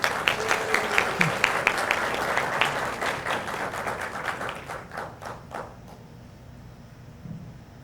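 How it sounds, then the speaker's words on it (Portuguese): Audience applause for an honoree at a Brazilian technology-sector gathering, a dense burst of clapping that thins out and fades over several seconds, heard in a hall. "Uma salva de palmas ao homenageado."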